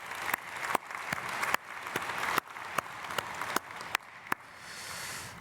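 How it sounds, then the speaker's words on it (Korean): Scattered applause from a church congregation at a Sunday worship service, with a dense wash of clapping broken by several sharp, distinct individual claps, then thinning out and fading near the end. "박수로 축복하겠습니다"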